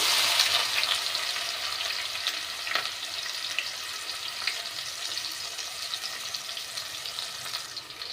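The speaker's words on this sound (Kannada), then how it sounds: "ಈಗ ಎಣ್ಣೆ ಕಾದೈತಿ ನಾವು ಈರುಳ್ಳಿ ಹಾಕೊಳ್ಳೋಣ" Onions sizzling in hot oil in a pan for homemade egg rice. A bright, busy frying hiss is loudest at first and eases slightly over time, with occasional stirring clicks and no voices.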